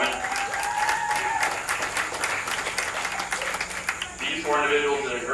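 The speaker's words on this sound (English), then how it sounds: "Can we go ahead and give a round of applause for all our younger showmen?" Applause from a crowd at a livestock show ring honoring young lamb exhibitors, steady clapping throughout with voices and bleating-like tones mixed in beneath.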